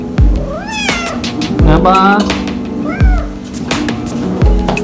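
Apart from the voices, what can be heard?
cat meowing while being fed after work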